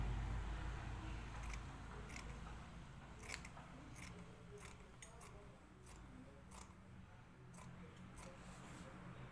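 Scissors snip through fabric for a garment sleeve in a series of close, crisp cuts, irregularly spaced and sometimes paired, over a quiet room background with no talking.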